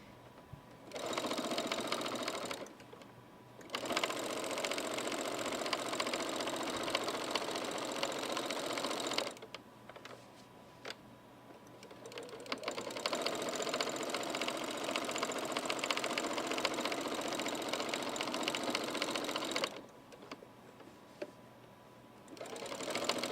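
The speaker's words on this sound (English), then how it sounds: "I did a back step just so that I can make sure the stitch is in there by using the presser foot" A sewing machine stitches a throw pillow, including a short backstitch with the presser foot, running in three long steady whirring bursts separated by brief pauses.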